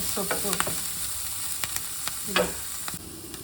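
Onions frying in a pan until reddened give off a continuous close sizzle, with quick scraping strokes of a spatula stirring them every second or so.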